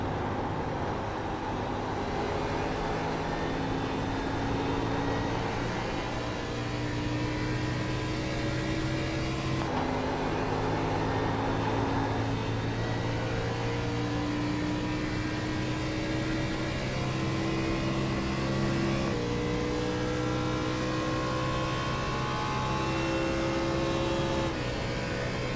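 On board a NASCAR Xfinity Series race car lapping at Darlington, the engine roars continuously and loudly, its pitch climbing and resetting in repeated steps as it accelerates and shifts through long stretches.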